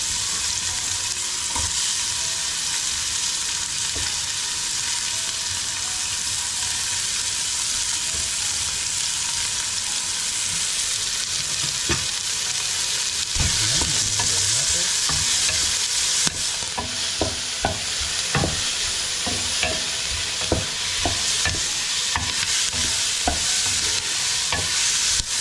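Onion, ginger and garlic frying in a pan in a home kitchen in Italy, a steady loud sizzle running throughout with occasional scrapes and clacks of a utensil stirring, and no voices.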